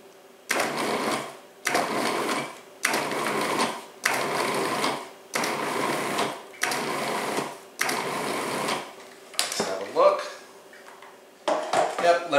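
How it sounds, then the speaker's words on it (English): Food processor pulsing chunks of butter into flour for a pie crust, about nine loud, close whirring bursts of roughly a second each separated by short silences, with a voice briefly heard near the end. "I'm going to pulse the machine several times just to break up the butter."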